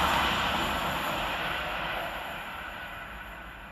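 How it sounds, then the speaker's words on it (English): A London Northwestern Railway Class 350 electric train pulling into Tamworth station produces a steady, broad rushing rumble that eases slightly as it slows, with no talk. "here comes our train in the form of 350-265 and 350-127"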